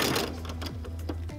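A sewing machine runs in a short, rapid burst of stitching, a steady mechanical whir up close.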